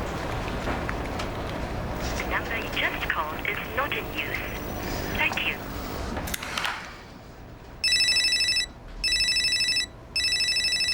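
A telephone rings in three loud, clear bursts with short pauses between them, following indoor talk and movement in a Singaporean TV drama office scene.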